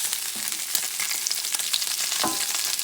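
Salmon cakes fry in a pan with a loud, steady crackling sizzle that fills the whole moment, close up, with a few scraping clinks of a utensil.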